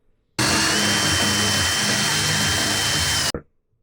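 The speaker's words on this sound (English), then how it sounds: "Now I'm drilling the holes on the corners bigger for the final screws." A power drill enlarges corner screw holes in a DIY digital gaming table, running as one loud, steady whine for about three seconds before stopping abruptly, with no talking.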